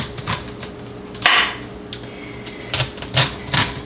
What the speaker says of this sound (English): gently cut down and remove your kernels